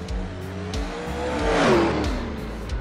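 A nitrous-assisted Camaro launches at a pro street drag race held in an alley, its engine roaring and building to a loud, rising crescendo before easing off, close and without talk.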